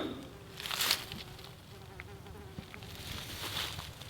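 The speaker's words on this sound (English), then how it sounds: "I hear my honeybees around them" Honeybees buzz among blackberry flowers outdoors, several thin, wavering drones passing close and fading, with one louder pass near the start and another toward the end.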